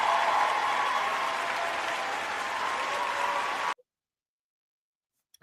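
Steady crowd applause runs for a few seconds and then cuts off abruptly into near silence, with a faint sound at the very end.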